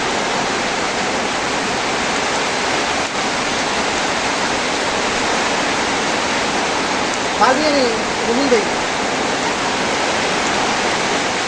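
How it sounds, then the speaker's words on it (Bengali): Heavy rain pours down in a steady, dense wash of hiss that stays loud and even throughout, with a brief faint voice or sound in the middle. "দেখো কি পরিমাণ বৃষ্টি হয়ে গেল"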